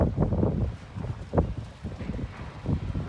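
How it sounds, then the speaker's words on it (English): Gusty wind buffets the microphone in low rumbling surges, rising and falling steadily throughout with no other clear sounds. "But still beautiful out right now, just windy."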